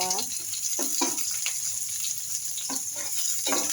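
Chopped onion sizzles in a hot pan at the start of a home-cooked dish, a steady frying hiss running underneath while a voice speaks intermittently close by.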